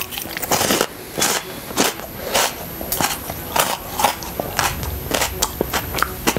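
Close, repeated crunching bites into a frozen marshmallow, roughly one every half second, each a sharp crackly burst.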